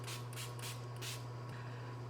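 A fine mist spray bottle gives several short, soft puffs in quick succession, quiet and close against a low steady electrical hum.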